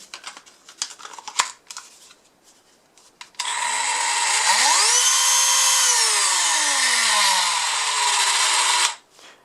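Cordless Dremel 8220 rotary tool, after some handling clicks, whines on loudly for about five seconds, pitch rising as it spins up, holding, then sliding down before cutting off abruptly.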